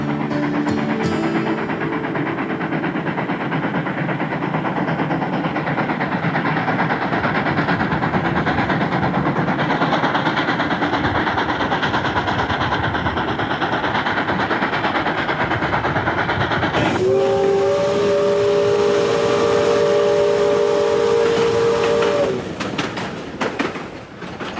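A steam train at Australia's first passenger railway site in Tasmania rumbles and chuffs steadily and loudly throughout, with a sustained two-tone steam whistle sounding near the end before the noise eases.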